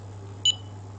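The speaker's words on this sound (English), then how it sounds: "and there's a beeping sound" A single short, high electronic beep from a SCENAR electrotherapy device over a quiet steady hum.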